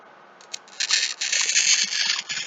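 Glass cutter scoring a sheet of stained glass: a brief tick, then a steady, even, hissing scratch for about a second and a half, close and fairly soft, with no talk.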